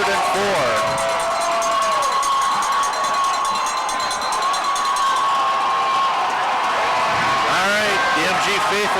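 A crowd of home fans at a 2013 Wisconsin high school football playoff game, Monona Grove vs Catholic Memorial, rises and cheers loudly for nine seconds, a continuous roar of shouts and clapping with excited voices throughout.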